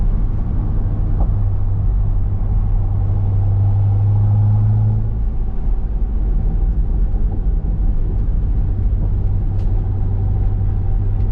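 A C6 Corvette cruising at speed on a highway with a constant low engine drone and road rumble, the engine briefly rising in pitch partway through.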